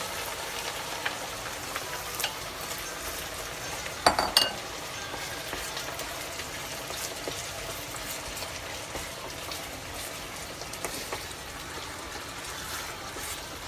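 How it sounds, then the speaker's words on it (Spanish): Chopped onion frying in hot fat in a pan, a steady soft sizzle and crackle throughout, with a brief louder splash and spit a few seconds in as the onion goes in, then settling to an even hiss. "hacerla con la cebolla frita en grasa"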